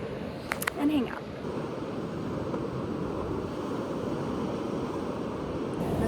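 Choppy ocean surf at a beach around sunrise, a constant broad wash of waves with wind buffeting the microphone, plus a few brief knocks near the start.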